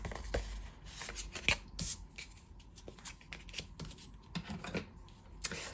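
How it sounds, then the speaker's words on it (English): Paper card being folded and burnished along its score lines, giving a run of close, dry crinkles, rubs and sharp scrapes with small taps, steady and fairly loud, with no voices. "And then simply we're going to fold and burnish all of our score lines."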